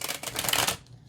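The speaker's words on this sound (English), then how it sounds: "So let's give this a little bit of a shuffle" Tarot cards being shuffled by hand, a quick close riffle of papery flutters and taps that fades out at the end, with no talking.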